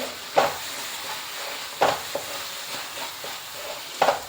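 Spices such as coriander powder and turmeric are stirred in a pan for chicken kurma: a soft background sizzle broken by several sharp spoon scrapes and knocks at irregular intervals, close and moderately loud.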